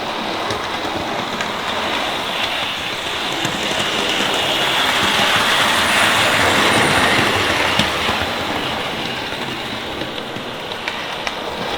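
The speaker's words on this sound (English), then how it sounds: "this is only a test track, so I can test all my engines." A 92203 Black Prince model locomotive runs along a temporary test track, giving a steady rolling, rushing rumble that holds at an even loudness throughout and swells slightly in the middle, with no voices.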